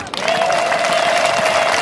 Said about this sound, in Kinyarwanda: Kumira Imana amashyi